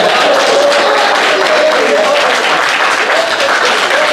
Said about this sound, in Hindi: आप एक एलिमेंट्री गुफ्तगू के ऊपर तालियां बजा रहे हैं